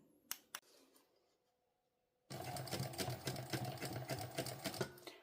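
Two sharp clicks and a quiet pause come first, then a sewing machine starts up and runs a steady, close topstitch along a sling pouch panel for nearly three seconds.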